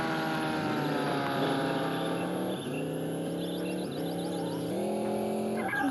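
A dragster races in the video game Dude Theft Wars, its engine a loud, steady whine that rises through the revs, drops briefly at each gear change and climbs again, with no talk over it.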